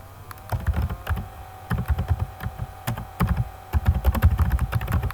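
Someone types on a computer keyboard close by, producing quick, uneven bursts of clicking keystrokes with short pauses between words.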